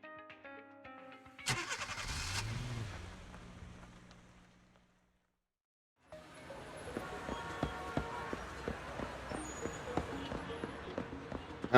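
Car engine starting in the game Zenless Zone Zero, a sharp crank and rising rev, then a brief silence followed by a steady engine run with rhythmic ticking while the car drives off, faint game music earlier.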